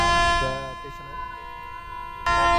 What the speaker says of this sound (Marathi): ट्रेन निघते, सायरन वाजला.